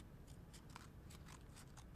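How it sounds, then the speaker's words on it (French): Scissors snip through folded paper in a craft project, several quick, crisp cuts in a steady rhythm, close and fairly quiet with no talk. "ce que je vais faire, c'est prendre mes ciseaux et je vais juste couper le petit côté"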